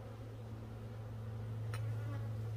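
Honeybees hum in a steady, low drone throughout an open inspection of a Warre hive, a close, even buzz with no talk over it.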